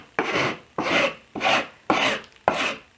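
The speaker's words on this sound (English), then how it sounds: "then you take your sandpaper" Sandpaper rubs along the edges of a wooden shelf in five even back-and-forth strokes, each a close, raspy swell about half a second apart, with nothing else heard.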